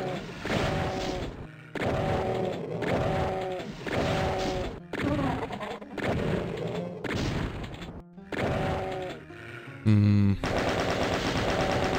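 A chain gun blasts in The Ultimate Doom, loud rapid bursts of automatic fire that repeat in rhythmic stretches with brief pauses, ending in a heavier boom.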